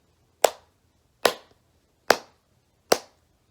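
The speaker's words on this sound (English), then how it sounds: "I'll clap first and then you can clap after me." Four single hand claps in a steady quarter-note beat, evenly spaced and sharp, clear and close in a quiet room during an elementary band flute lesson.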